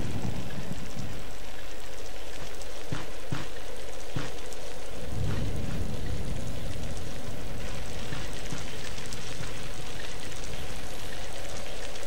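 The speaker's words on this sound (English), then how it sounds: "When did it start raining?" Steady rain hisses throughout in the video game Alone in the Dark: The New Nightmare, with a few sharp crackles early on and a low rumble building midway, like a distant thunderclap.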